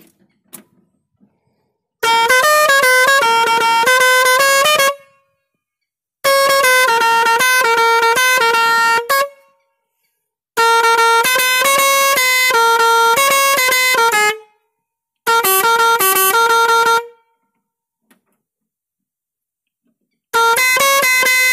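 A 40-tone, six-pipe air pressure music horn fitted to a tractor plays loud, melodic multi-note tunes in five separate bursts of two to four seconds each, with silence between them.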